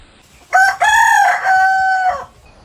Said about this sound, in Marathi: पहाटे कोंबड्याच्या आरवण्याचा आलाम